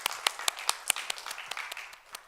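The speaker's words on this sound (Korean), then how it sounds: "하나님께 영광의 박수 올려드리겠습니다." Applause from a church congregation, a steady patter of many hands clapping with a few sharper claps standing out, fading slightly toward the end.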